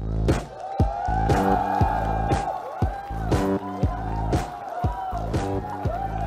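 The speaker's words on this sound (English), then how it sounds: "welcome our CEO on stage with a huge round of applause, Mr. Madhav" A launch-event audience for the Realme 3 greets the CEO onstage with loud, sustained cheering, whoops and shouts that swell in repeated bursts over a continuous crowd roar.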